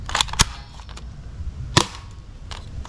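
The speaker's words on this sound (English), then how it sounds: "Oh, AK47 assault rifle." A toy Nerf AK47 assault rifle fires in a few sharp, snappy clicks and pops, spaced unevenly and close by, with quieter handling noise between shots.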